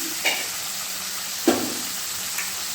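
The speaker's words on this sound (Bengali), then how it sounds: "মশলাটা খুব ভালোভাবে আমি কষিয়ে নিয়েছি" Spice masala fried and stirred in a pan for a magur fish curry with papaya and potato, a steady soft sizzle broken by a few sharp scrapes of the spoon.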